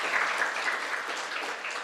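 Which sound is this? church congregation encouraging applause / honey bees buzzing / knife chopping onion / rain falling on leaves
church congregation encouraging applause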